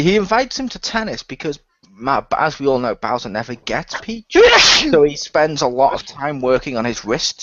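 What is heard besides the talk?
None of the usual background noises is heard.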